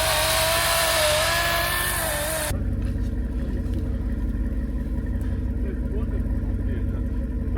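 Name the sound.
chainsaw running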